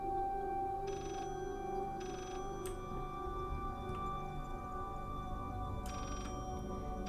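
A telephone in the video game Layers of Fear rings in short repeated electronic bursts, three rings spaced apart over a quiet, humming background.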